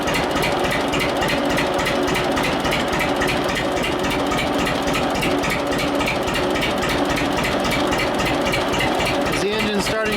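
A small engine under throttle governor adjustment runs steadily with a rapid, even mechanical chatter throughout, picking up speed, with a brief shift near the end.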